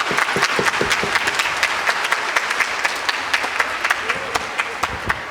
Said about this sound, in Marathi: तर सगळ्यांसाठी एकदा जोरदार टाळ्या होऊन जाऊ द्या